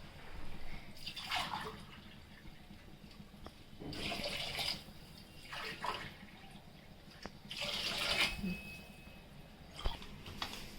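Water is poured in several separate bursts onto two glasses of rice in a cooking pot, each pour a splashing rush lasting a second or two, with quieter gaps between pours.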